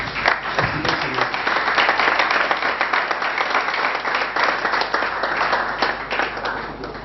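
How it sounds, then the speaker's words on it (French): Dense applause and cheering from a church congregation greeting Apostle Ntimba, a steady wash of clapping that carries loudly and continuously throughout, with scattered voices mixed in. "Est-ce qu'on peut saluer cet homme? Est-ce qu'on peut l'acclamer?"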